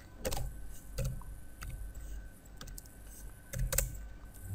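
Someone types Java code on a computer keyboard, a close, moderately quiet patter of irregular key clicks and taps with short pauses, no voices.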